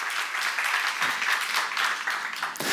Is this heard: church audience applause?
yes